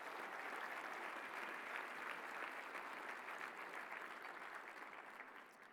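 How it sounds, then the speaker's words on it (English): A keynote audience bursts into a sustained round of applause, a thick, even patter of many hands that stays full for several seconds and then slowly fades, heard from a moderate distance. "Let's give them a round of applause for bringing us all together."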